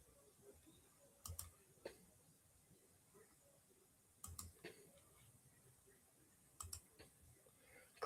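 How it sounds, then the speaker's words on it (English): A computer mouse gives faint, scattered clicks in small clusters, separated by several seconds of quiet room tone, with no voices heard. "Clicking through a few things, guys."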